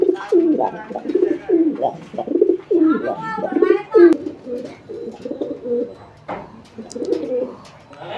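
A Baghdadi homer pigeon coos repeatedly up close, a run of throaty, rolling coos in quick succession with brief pauses, clear and moderately loud.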